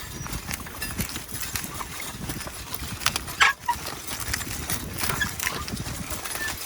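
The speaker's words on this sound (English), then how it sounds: "Now you'd think where it's horses, this would be a whole lot slower, but you're actually getting a lot of work done" Horses' hooves clip-clop steadily in a field as a team pulls a plow, a moderate rhythmic clatter over low rustling ground noise with no talking.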